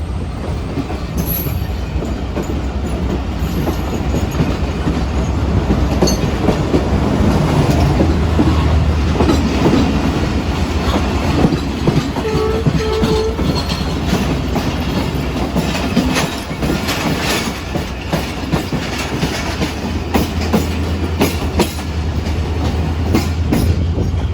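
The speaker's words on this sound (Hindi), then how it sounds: "टू डाउन के पीछे भी एक ट्रेन आ चुकी है।" The Awam Express passenger train runs on rails between Drigh Road and Jungshahi, with a loud, continuous rumble, rhythmic clickety-clack of wheels and occasional squeals heard from on board.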